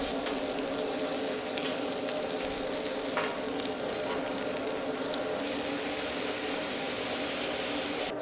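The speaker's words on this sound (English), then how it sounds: "Seared the prime rib on all sides." Prime rib sears on a hot Blackstone griddle, giving a steady, dense sizzle of frying meat that runs continuously at moderate volume with no talk.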